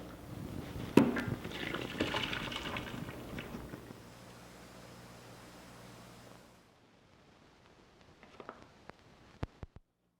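Water that beef was boiled in for two hours being poured away, a broad rushing splash for several seconds that cuts off, followed by near silence and a few light clinks.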